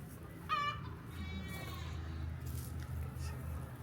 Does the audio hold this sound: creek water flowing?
no